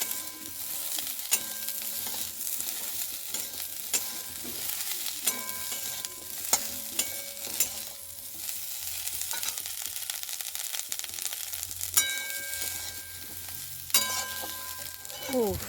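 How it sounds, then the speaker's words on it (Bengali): Vegetables frying in a pan with peas, a continuous close sizzle broken by repeated metallic scrapes and clinks of a spoon stirring, no talking. "তারপরে একটু ভাজাটা হোক তারপরে আদাটা দিয়ে দেবো"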